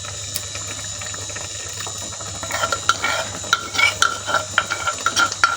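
Spoon scraping and stirring tomato paste into keema frying in a pan, a soft hiss at first, then wet, irregular clacks and squelches growing louder over the last few seconds.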